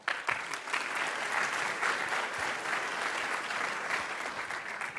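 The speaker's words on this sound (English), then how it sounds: "Please give them a big round of applause." Audience at a startup pitch competition session breaks into sustained applause, an even roar of many hands clapping together for several seconds, fairly distant and without speech.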